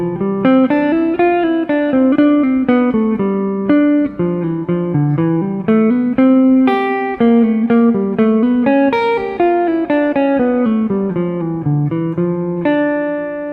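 A Bach excerpt, bars 15 to 19, played on guitar: a steady stream of plucked single notes in flowing scale and arpeggio runs, clear and close, with no talk.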